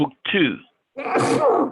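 A single sharp sneeze bursts out mid-sentence during a casual online spreadsheet lesson, with a brief spoken phrase just before it and a voice answering right after.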